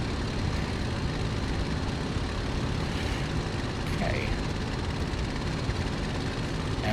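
Steady, dense engine roar from a Messerschmitt Bf 109 G-6 climbing after takeoff in Microsoft Flight Simulator, a constant loud drone with a faint voice partly beneath it.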